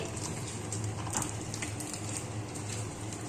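Katla fish pieces frying in hot oil give a soft, continuous crackle and sizzle with small irregular pops, quiet and close, beneath a low steady hum.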